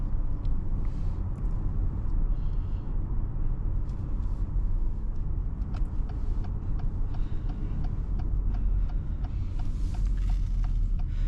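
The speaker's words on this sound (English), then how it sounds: "here we are with the test drive of the 2025 Acura RDX A-Spec" A 2025 Acura RDX A-Spec with a 270-horsepower engine and a 10-speed transmission is heard from inside while driving, giving a steady low cabin rumble with faint ticking clicks over it and no talking.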